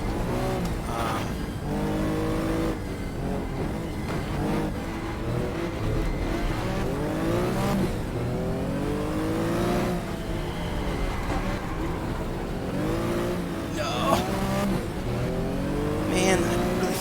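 Porsche 914-6 race car engine in the GTR2 racing game on automatic transmission, a continuous whining drone that rises and falls with gear changes across the run, heard under steady talk.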